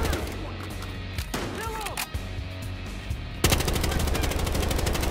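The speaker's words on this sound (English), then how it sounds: "I heard gunshots!" Gunfire in the video game Battlefield Hardline, with repeated shots and sustained automatic bursts, loud and dense, growing heavier toward the end amid game sound and a brief voice.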